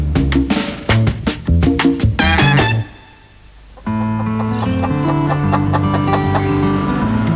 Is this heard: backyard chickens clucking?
yes